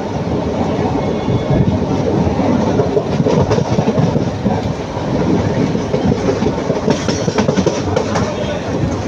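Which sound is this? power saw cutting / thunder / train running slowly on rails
train running slowly on rails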